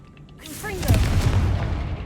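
A Confringo fire spell cast in Hogwarts Legacy, a rising whoosh leading into a heavy booming explosion with a rumbling, crackling tail, loud and close.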